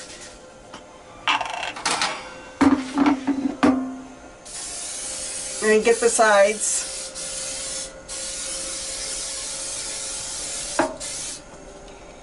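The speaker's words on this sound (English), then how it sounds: "I'm going to spray this down" Cooking spray hisses onto a baking pan in an RV kitchen, several bursts of varying length spread over about ten seconds, close and fairly loud, with someone speaking briefly between sprays.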